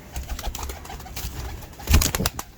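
Teddy Arabic pigeons cooing and shuffling close by, with low murmuring calls and a brief louder flutter near the end.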